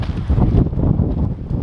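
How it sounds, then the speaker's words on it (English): Wind gusting into the microphone outdoors at a track and field event, a brief, close buffeting rumble with no other clear sounds. "The wind, it's just disorientating me"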